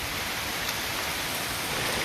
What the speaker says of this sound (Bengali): দেখুন বৃষ্টির ভিতর আমরা ভিডিও শট নিচ্ছি এখানে বৃষ্টি হচ্ছে খুব মুসলধারে